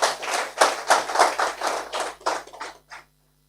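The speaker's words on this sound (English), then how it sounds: "Let us clap for Dr. Mjenyi." Audience applauding for Dr. Mjenyi at an obstetricians and gynecologists association gathering in Western Uganda: a burst of many hands clapping together, fairly close, in rhythmic waves that thin out and stop after about three seconds.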